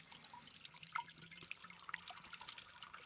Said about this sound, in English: There's nature's drinking fountain right there.